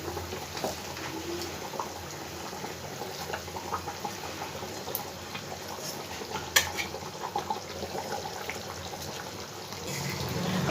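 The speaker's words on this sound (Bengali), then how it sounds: "দেখো খুব ভালো করে আমার ঝোলটা ফুটে উঠেছে। এই পর্যায়ে আমি মাছগুলো সব দিয়ে দেবো একে একে।" Parshe fish pieces go one by one into spicy gravy at a rolling boil in a pan, giving a steady low bubbling hiss with a sharp soft splash or two. No one speaks.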